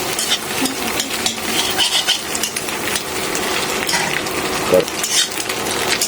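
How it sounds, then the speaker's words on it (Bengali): An egg fries in oil in a pan, sending up a loud, continuous sizzle with scattered metallic scrapes and light clinks of a utensil against the pan. "আমাদের ডিমটা ভাজা হয়ে গেছে"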